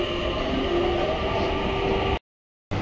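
A metro train pulls into a station platform with a steady, loud rumble and faint high squeal, the sound cutting out briefly near the end.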